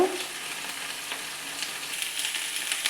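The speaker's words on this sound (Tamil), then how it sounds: "நல்லா வதக்கி விட்டுக்கோங்க அந்த ஆ எண்ணெயில் வந்து எல்லா காயுமே படணுங்க" Vegetables for avial sautéing in hot oil in a pan give a steady, close sizzle with faint crackles and occasional stirring scrapes, and no talking.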